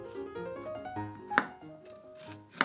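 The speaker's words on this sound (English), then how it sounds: "Make numerous shallow cuts around the burdock root lengthwise." Knife making repeated shallow lengthwise cuts into a burdock root on a board, two sharper knocks standing out over soft tonal background sounds.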